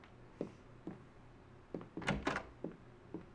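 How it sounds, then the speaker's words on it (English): A huge door in the video game God Hand opens with a series of heavy mechanical thunks and clanks, spaced out unevenly, and a louder grinding surge in the middle, fairly quiet overall. "That is a huge door."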